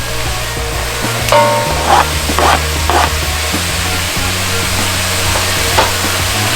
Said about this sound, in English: Now I'm gonna take the garlic and throw that in.